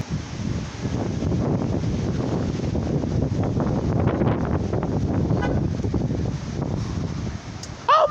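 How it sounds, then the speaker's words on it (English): Strong windstorm gusts roar steadily across an open microphone, a dense loud rumble that barely lets up for several seconds, with a faint brief chirp near the end. "it's getting real cold out by this wind!"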